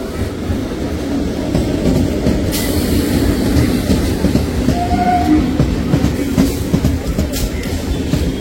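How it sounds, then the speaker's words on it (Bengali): A Canning line train pulls into a crowded station near Shalimar during Janmashtami, a steady loud rumble of wheels on rails with faint clatter and a brief squeal, close by and continuous. "ট্রেন পুপু করছে যে ঢুকছে।"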